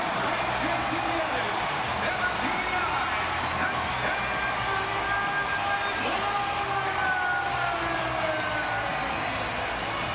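A stadium crowd roars and cheers after an arena football touchdown, a dense steady wall of distant yelling and whoops that holds for ten seconds, with a commentator's voice faintly underneath.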